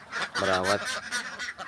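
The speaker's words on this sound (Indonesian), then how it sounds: "bebek-bebek yang kita rawat ya" Ducks on a laying-duck farm give a single loud, nasal honking call up close, heard over a person talking.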